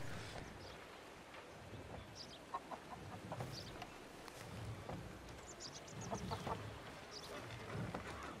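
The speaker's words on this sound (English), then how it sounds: "And some more chickens." Chickens cluck in scattered bursts around a small town in the video game Red Dead Redemption, with soft ambient wind and background noise and no talking.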